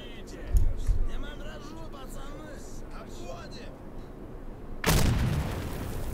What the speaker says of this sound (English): That guy's throwing grenades at me now?